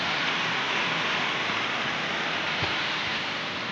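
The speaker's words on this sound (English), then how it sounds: "It is nearly impossible to shoot nowadays because of how heavy the rains are outside." Heavy rain pours down outdoors on a rural African farm at midday, a steady dense hiss of falling water with no gaps, close and even throughout, no voices.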